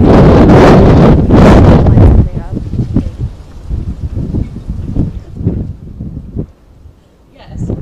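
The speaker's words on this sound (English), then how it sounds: "There's that lovely wind right now." Strong outdoor wind buffets the microphone in loud gusty bursts for the first two seconds, then eases to rustling, fluctuating gusts under a person talking.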